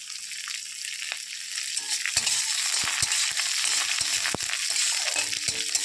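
Panch phoron, onion and dried red chillies fry in a pan of oil, giving a constant bright sizzle broken by sharp crackles and occasional scrapes, with no voices.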